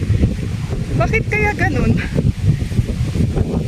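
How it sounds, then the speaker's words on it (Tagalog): Strong wind buffets the microphone outdoors on a sunny but cold December day, a loud continuous rumbling roar throughout while someone speaks briefly over it. "Lakas ng hangin."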